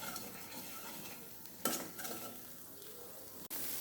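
Coconut paste with spices being sautéed in a pan for a prawn dish, a soft low sizzle with scraping stirs and a couple of sharp utensil clicks, quiet and close.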